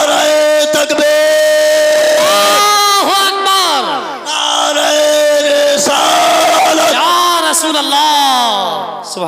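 A large crowd at a religious gathering loudly chanting the Naara-e-Takbir response, many voices shouting together in long, drawn-out bursts that swell and fall several times.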